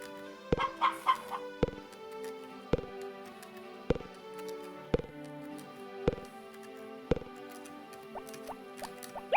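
Chickens cluck on a Harvest Moon farm game screen, a series of short, sharp, regularly spaced game sounds with clucks and chirps between them, heard alone without any talk.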